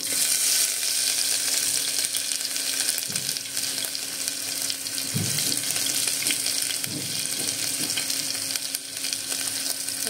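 Curry leaves and spice paste frying in a pan as they are stirred, a steady close sizzle with a few soft scraping strokes and a faint watery hiss running underneath.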